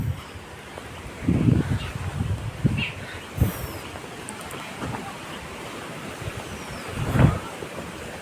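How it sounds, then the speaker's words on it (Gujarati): Heavy rain and gusting wind sweeping over open farm fields make a broad, continuous rushing roar, with rumbling wind buffets hitting the microphone several times, loud and close with no voices. "આ છે કંઈક વરસાદ ફૂલ પડે છે અને પવન બી ચાલુ છે,"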